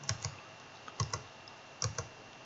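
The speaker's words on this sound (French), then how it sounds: "j'appuie sur la touche CTRL, je reste appuyé, et sur la touche plus du clavier, j'appuie à chaque fois et ça augmente" Ctrl and plus keys on a computer keyboard pressed repeatedly, giving three close pairs of crisp plastic clicks spaced about a second apart, near and alone.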